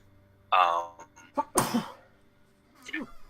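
A single sharp sneeze bursts out close by, surrounded by quieter vocal sounds and a brief breathy noise afterward.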